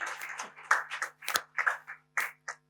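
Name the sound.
audience applause for panel speaker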